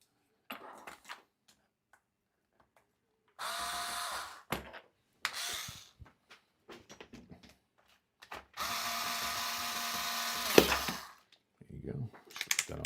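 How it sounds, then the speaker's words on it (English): A power screwdriver drives a screw into a shock on an RC car in several short whirring bursts separated by quiet gaps, with light clicks and handling noises between them. "So we'll just finish screwing that shock in."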